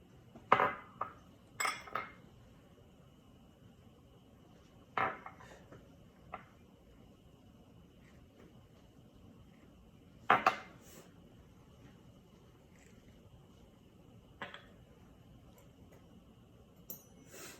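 A fork clinking against a bowl while mixing seasoning ingredients with avocado oil for chicken wings, a few sharp, close metallic taps spread out over quiet pauses.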